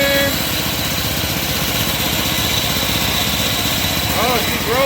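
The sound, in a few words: go-kart with Predator 224 engine running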